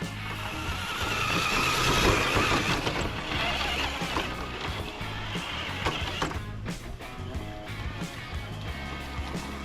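A Traxxas TRX-4 High Trail K5 Blazer RC truck on a 3S battery in high gear running along an outdoor trail, its motor whine and tyre crunch rising and surging unevenly at moderate distance.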